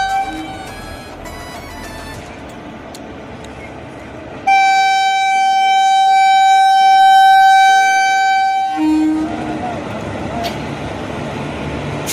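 A loud, sustained train horn blares for several seconds as a train passes a level crossing, amid rumbling railway noise, with background chatter before and after.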